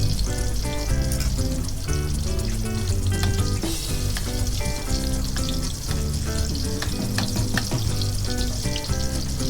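Eggplant omelette (tortang talong) fries in a pan with a steady, dense sizzle that runs throughout, under background music.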